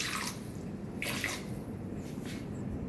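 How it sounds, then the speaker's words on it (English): Water poured into a pan of butter chicken curry, a short quiet splash and trickle in a few brief bursts, close by and alone. "I'm adding some water"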